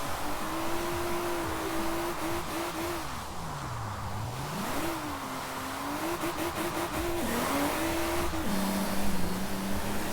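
Drift car in the video game Forza Horizon 4, engine droning and revving up and down with shifting pitch while tyres squeal through slides, loud and continuous with no talk.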